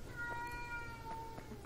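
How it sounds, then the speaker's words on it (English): A pet cat gives a long, quiet meow, then a few short soft chirps trailing after it, close by in a quiet room with a low steady hum. "Yes, cat, I love you too."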